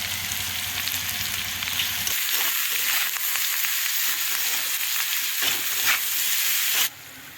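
Broccoli and green peas fry over high heat in a wok with a steady, close sizzle. About two seconds in, the low rumble drops away, and the hiss fades sharply near the end.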